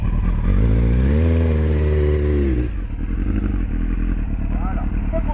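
Motorcycle engine idles close and loud with the choke partly on, rising in pitch as it revs for a couple of seconds, then settling into a steady, rough idle.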